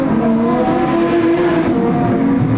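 Production sedan race cars charge down the back straight of a circuit on the final lap, a loud continuous engine roar with steady droning pitch and no voices.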